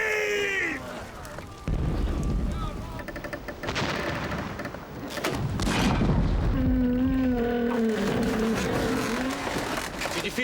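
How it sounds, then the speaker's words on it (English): Ship's cannon fire aboard a naval vessel in a mutiny-era sea battle: heavy booming blasts and rumbling impacts fill the scene, loud and close, with shouting and background commotion mixed in. "When the guns fired."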